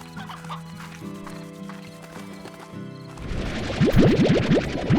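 Hens clucking in the video game Slime Rancher: a burst of rapid, close clucks and squawks after a stretch of tonal game music and background sounds.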